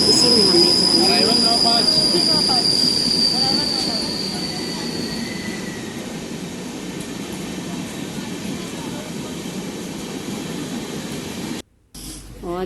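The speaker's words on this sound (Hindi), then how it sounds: "ये देखिए हमारे दुर्ग स्टेशन से ट्रेन छूट चुकी है" Passenger train pulling out of Durg station, with loud high wheel squeals over a continuous rumble of rolling wheels heard from inside the carriage, fading somewhat and cutting out briefly near the end.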